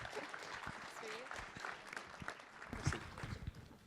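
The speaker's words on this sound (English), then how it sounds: "So let's give a round of applause to," Audience applause at the DefCamp 2014 security conference, a moderate crowd clapping steadily for about four seconds in a hall, with some voices mixed in.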